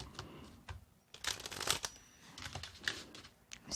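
Playing cards are shuffled in several quick riffling bursts with brief pauses between, close by and crisp, with no talking.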